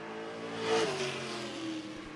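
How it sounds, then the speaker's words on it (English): A race car roars down the back straight at a season-opener oval, engine note swelling to a peak then easing as it passes, loud and continuous over crowd ambience. "Down the back chute, car number 26."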